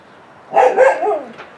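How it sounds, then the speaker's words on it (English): A single small dog gives a short burst of two or three quick barks up close, ending in a softer whine. "Roxy, don't start barking too"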